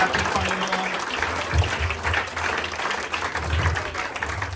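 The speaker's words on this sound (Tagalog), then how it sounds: "Malakas po na palakpak para sa ating Panginoon." A church congregation claps together in sustained, dense applause during a worship service, with a low rumble of voices and some music underneath throughout.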